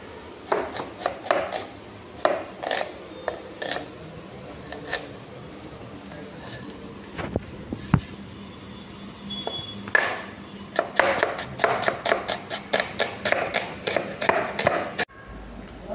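Knife chopping onion on a board in a mess kitchen for a chicken recipe, with bursts of quick, regular close chops separated by pauses, and faint background noise between them.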